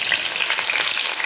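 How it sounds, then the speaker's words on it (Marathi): Green chilies hit hot oil in a kadhai for sabudana khichdi, giving a steady, close, bright sizzle that crackles evenly through the whole moment with no voices. "आता यात मी मिरची टाकून घेते"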